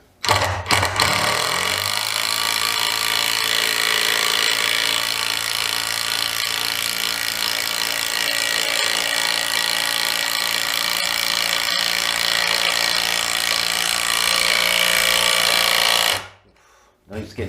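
A DeWalt DCF815 impact driver drives a fastener into wood near a knot, giving a loud, continuous rapid hammering rattle for about fifteen seconds before it stops abruptly.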